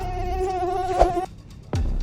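A housefly buzzes close by with a steady, whining drone that stops briefly and then starts again.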